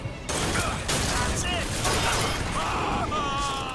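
Gunfire in Bioshock Infinite, a dense rapid volley of shots with clattering and ringing mechanical effects, steady and fairly quiet throughout.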